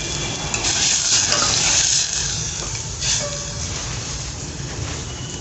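Masoor dal tempering sizzling and frying in a pan as it is stirred, a steady hiss with brief scraping bursts near the start, close and fairly loud with no talking.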